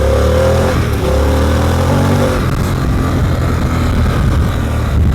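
A 2021 Harley-Davidson Pan America Special pulls hard under acceleration, its loud, close engine note rising steadily before a shift. After the shift it settles into a throbbing, strong rumble, with no voices.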